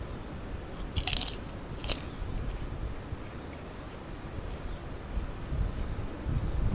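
Someone bites into a possible prawn cracker at breakfast in a Bali eco resort, a couple of sharp close crunches followed by quieter chewing over a low outdoor background hum.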